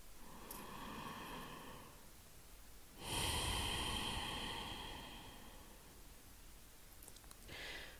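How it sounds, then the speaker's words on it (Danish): A slow, deep breath is drawn in and let out during a guided meditation, the soft airy exhale swelling up close against a faint hiss of background noise. "Du tager en dyb indånding og ånder helt ud."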